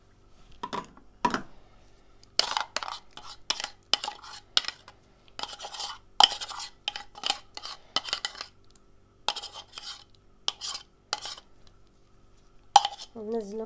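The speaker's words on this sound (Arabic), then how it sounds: "راح نحط الشمندر اللي طحناه، نحط كل الكمية." Ground beetroot for a spiced Syrian appetizer tipped into a bowl, heard as scattered clinks and scraping taps of a utensil against the dish, in short bursts with quiet gaps between them.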